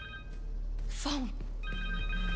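A cell phone in Marvel's Spider-Man 2 rings with a steady electronic tone that comes in twice, under a low game background and a brief voice-like swoop.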